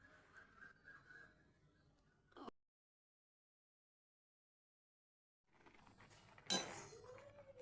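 Rice pudding (payesh) made with Gobindobhog rice and milk, stirred with a metal spatula in a pot: soft scraping and clinking in bursts, a long silent gap, then a louder sharp clink near the end.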